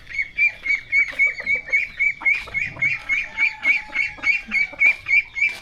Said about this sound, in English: There's a duck running towards me.